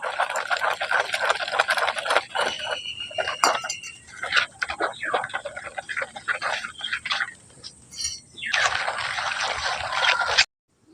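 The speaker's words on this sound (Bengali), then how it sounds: "এবার অল্প অল্প ঠান্ডা জল দিয়ে এই ব্যাটারটা তৈরি করে নেবো" Cold water poured bit by bit into beguni batter, trickling and splashing liquid with clinks of a spoon against the bowl in uneven bursts, up close, mixed with quiet talking.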